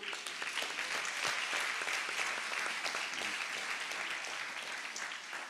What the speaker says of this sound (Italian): Un applauso grande lo voglio per Giuliano Marongiu.